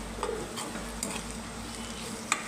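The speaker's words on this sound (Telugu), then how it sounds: "గుడ్డు వేసుకుందాం. గుడ్డు బెండకాయ ఫ్రై. ఇప్పుడు గుడ్డు కొట్టి వేసుకొని" Egg and okra stir-fried in a pan give a quiet, steady sizzle with occasional light scrapes and taps of a spatula, heard close.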